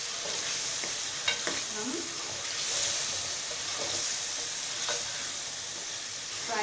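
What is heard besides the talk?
frying half a kilo of meat for biryani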